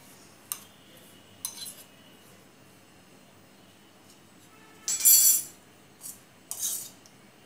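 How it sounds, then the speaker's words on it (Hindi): A spoon clinks and scrapes against a bowl while Maggi pakora batter is mixed, giving scattered metallic taps and a brief cluster of louder rattling scrapes, close and otherwise quiet. "या अच्छी तरह से मिक्स कर लेती हूँ पहले।"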